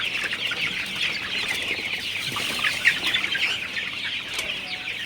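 A flock of 39-day-old Sonali super hybrid chickens clucks and chatters continuously nearby, with occasional wing flaps mixed into the busy, overlapping calls.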